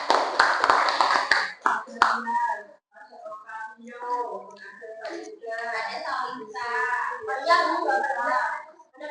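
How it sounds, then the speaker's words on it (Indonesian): Classroom applause for presenters at a microteaching session, a burst of clapping hands lasting several seconds with children's voices chattering over and after it. "tepuk tangan buat yang maju hari ini"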